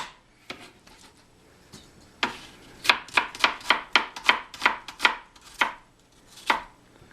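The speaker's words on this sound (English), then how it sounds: "I'm just going to cut this last onion" A knife thinly slices an onion on a cutting board, with about a dozen crisp chopping knocks in a fairly regular rhythm, close and clear, preceded by a few lighter cuts.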